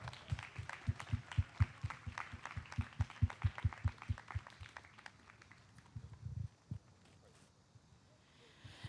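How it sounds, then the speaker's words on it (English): Rhythmic clapping from a crowd at a disability pride rally, a steady patter of claps that thins out and fades after several seconds, leaving a few scattered claps and quiet room noise. "Please give her another round of applause."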